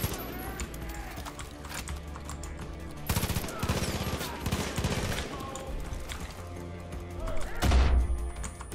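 Gunfire from a pistol in the zombie mode of Far Cry 5, with rapid shots cracking over a busy game mix, the densest run midway and a sharp burst near the end, with music and effects underneath.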